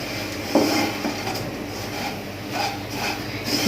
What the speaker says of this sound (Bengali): ভালো মতো মিশিয়ে এই গোল্ডেন হওয়া পর্যন্ত একটু ভেজে নিব